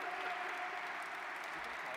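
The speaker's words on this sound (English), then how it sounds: "You can applaud for that." Quiet applause from the audience at a World Tree of Hope lighting ceremony marking the San Francisco Sisters of Perpetual Indulgence anniversary, a soft, even patter of many hands heard from a distance.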